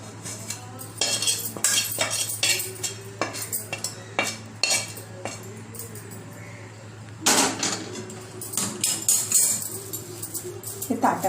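A thick beetroot sweet mixture gets spread and pressed across a ghee-greased metal plate, giving repeated close scraping and clinking strokes in uneven bursts with short pauses, over a low steady hum.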